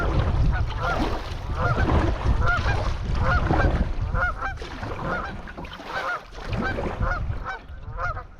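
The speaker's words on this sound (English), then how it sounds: "Sandhill cranes and geese coming up." Geese and sandhill cranes call beside a river, a dense stream of honks and rolling cries that rise and fall together, fairly close and steady throughout.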